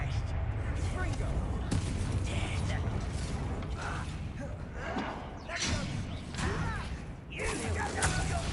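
Blasting spell bursts from combat in Hogwarts Legacy, dense crackling impacts and mechanical creaks over a continuous game soundscape, with spoken voices over the action.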